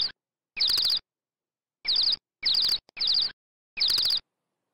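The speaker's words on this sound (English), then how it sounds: "While the bird sound is quiet." Short bursts of high, rapid bird chirps repeat five or six times with quiet gaps between, clear but not loud.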